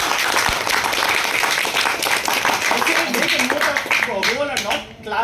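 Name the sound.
audience clapping at meeting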